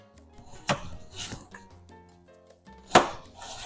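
Quartered and thirded potato chunks dropped into a slow cooker pot of pork chile verde, two distinct close thuds a couple of seconds apart with faint knocks between, otherwise quiet.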